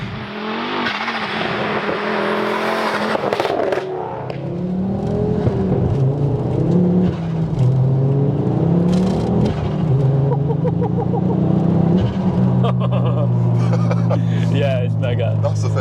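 A Ford Focus RS MK2 hot hatch engine revs and accelerates hard close by, rising and falling through gear changes, with people talking over the roar.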